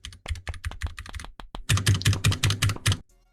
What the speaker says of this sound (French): vous entendez les clics de mon clavier en même temps